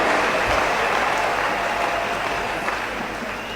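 A church congregation applauding in a large gathering, a dense, sustained wash of clapping that holds steady and eases off slightly toward the end, with no voices standing out.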